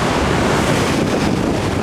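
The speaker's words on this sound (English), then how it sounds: "Huge waves." Huge ocean waves crash against a lava rock jetty on Hawaii's North Shore, a loud, continuous roaring surf heard close up, mixed with heavy wind buffeting the microphone, with no voices.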